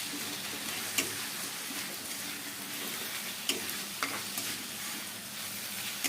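Radish greens frying in a pan with coriander leaves, a steady close sizzle with occasional sharp clicks of stirring, no voices.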